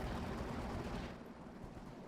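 Panzer IV cannon fire from a Company of Heroes 2 battle, loud and dense at first, then easing into a rumbling wash of battle noise with no talk.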